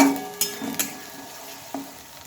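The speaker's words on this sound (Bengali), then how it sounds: "মশলাটা একটু ভালোভাবে নেড়ে চেড়ে নিয়ে" Spice paste for a Bengali-style vegetarian cabbage curry is stirred in a frying pan, with a soft sizzle and a few sharp spoon scrapes against the pan at a steady, unhurried pace.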